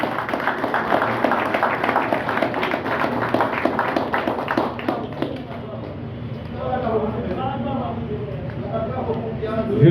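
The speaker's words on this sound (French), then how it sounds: "je vous demande d'applaudir chaudement" Warm applause greeting a newly installed regional director of a national school canteen programme, dense clapping for several seconds that thins out as voices take over.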